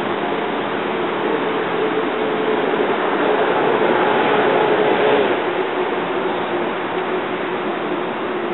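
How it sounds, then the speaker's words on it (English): Alwyn passenger train rolling into Bethayres station, rail cars 294, a steady broadband rumble and hiss that swells slightly in the middle as it nears, then holds constant, no talk. "Here comes the Alwyn train."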